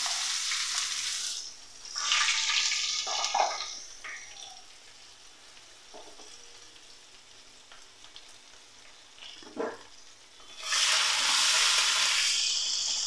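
Whole garam masala and onion go into hot oil with white cumin, producing bursts of close, crackling sizzle that fade to a quieter simmer midway and then swell loudly again.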